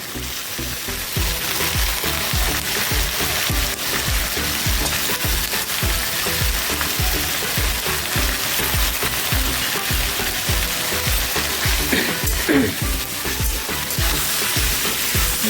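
Carrot, tomato and bottle gourd sautéed in a pan for sambar, a continuous close sizzle with rhythmic stirring scrapes throughout.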